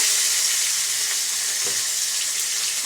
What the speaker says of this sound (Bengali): তিনটে ভাজা করবো